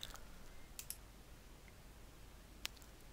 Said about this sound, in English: I'm going to click on the refresh button